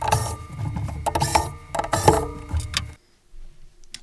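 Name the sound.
removing screws from Columbia Data Products VP portable computer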